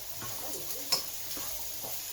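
Vegetables, celery and sausage are stirred in a sizzling pan, a steady frying hiss with soft scraping strokes and one sharp clink of a utensil, close and fairly quiet.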